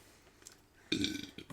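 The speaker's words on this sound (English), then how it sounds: "This is a burping episode." A single loud, close burp from a man recording a podcast episode, rising after a quiet moment and rumbling for about half a second.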